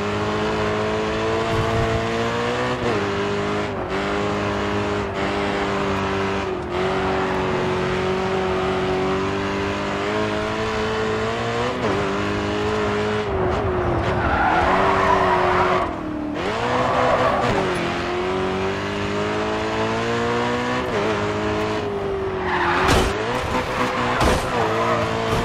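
Race cars in the Grid 2 racing game, a continuous loud engine howl rising and falling through gear changes with repeated tire squeals and skids as the cars corner hard.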